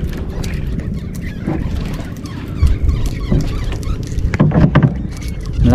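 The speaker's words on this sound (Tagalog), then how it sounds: "Ay, nang bangka pala. Bangka pala mabilis ang takbo." A fast-moving bangka skims across water, its steady engine drone and hull slap continuous and fairly close, with water splashing that grows louder near the end.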